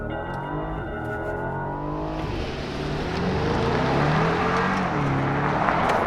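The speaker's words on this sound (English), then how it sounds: "2021 Mercedes-Maybach GLS600 with no launch control." 2021 Mercedes-Maybach GLS 600 SUV accelerating hard from a standstill without launch control, a loud steady engine roar that rises in pitch and builds in volume over several seconds, with no talk.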